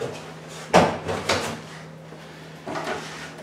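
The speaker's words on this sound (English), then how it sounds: "Now I'm going to shut the CAZ door back again." An indoor CAZ (combustion appliance zone) door is shut during a worst-case draft test in a house, giving a soft bump followed by a couple of quieter knocks and a faint later thud over a steady low hum.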